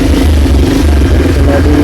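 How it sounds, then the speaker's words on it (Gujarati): A motorcycle engine runs steadily and loudly close by, a continuous low rumble with a slight clatter throughout, with no voices over it. "બાઈક સ્ટાર્ટ કરી નાખી જો"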